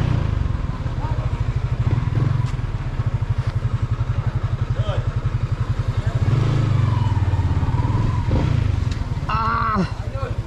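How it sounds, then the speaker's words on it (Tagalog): A noisy motorcycle engine idles with a steady, rough chugging throb, loud and close, with a brief squeaky sound near the end. "Papatingin ko lang yung motor ko, ingay na"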